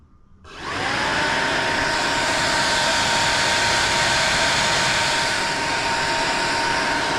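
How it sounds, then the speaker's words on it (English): An electric cooling fan on a Yamaha Banshee switches on and spins up within a second, then holds a steady, loud, close whirring hum without any talk. "the fan will turn on after it registers"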